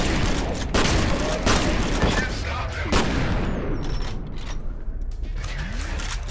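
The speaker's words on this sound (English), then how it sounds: "The sound balancing for the shotgun is not there." Shotgun blasts in the video game F.E.A.R., loud booming shots amid rapid gunfire and mechanical clatter, with the noise thinning toward the end.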